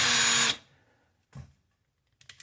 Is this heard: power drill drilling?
yes